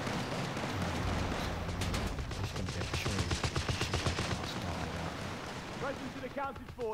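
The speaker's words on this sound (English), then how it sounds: "Heavy machine gun and crew are ready for orders." Heavy machine gun firing in the Company of Heroes 3 video game, rapid rattling bursts with battlefield booms underneath and someone talking over the gunfire.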